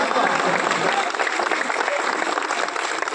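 An audience at a college Republic Day gathering in Khagaria claps loudly and steadily, a dense burst of applause filling the hall just before a speech begins.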